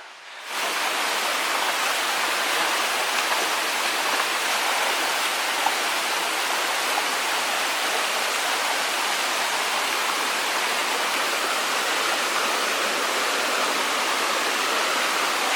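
A mountain stream rushes steadily on the Brahmagiri trek at Thirunelli, Wayanad, a dense, even roar of flowing water that starts abruptly and stays close and constant throughout.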